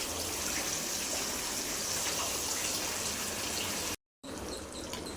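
Small masala-coated fish frying in hot oil, a steady loud crackling sizzle that runs without pause and briefly cuts out near the end before resuming.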